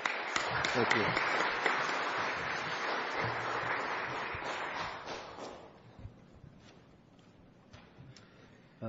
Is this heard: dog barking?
no